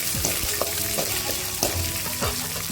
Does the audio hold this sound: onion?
yes